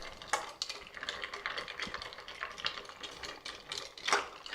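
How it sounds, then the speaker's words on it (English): Ice clinking and rattling as a cocktail is stirred in a mixing glass, a steady run of small clicks and scrapes at close range, with no talking. "give it a nice stir"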